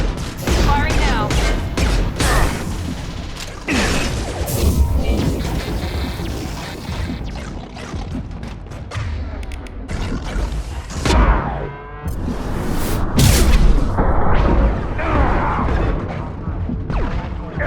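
Weapons fire and explosions from a space battle in the video game Mass Effect 2, a dense, continuous barrage of blasts, crashes and impacts lasting throughout, loud and close with sharper bursts around the middle and end.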